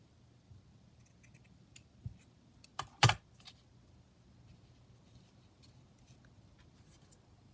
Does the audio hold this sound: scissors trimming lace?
yes